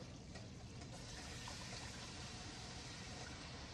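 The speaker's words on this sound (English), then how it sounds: "We're going to add some water." Water pours in a continuous, even, faint rush into a pot of browning beef stew for several seconds, with no talking.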